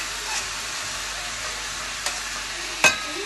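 Vegetables being sautéed in a pot for soup, a steady soft sizzle with faint stirring scrapes and a couple of brief clinks of a utensil against the pot, close and without talk.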